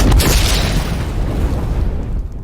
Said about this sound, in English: that explosion's amazing. It's a crazy thermal detonator sound.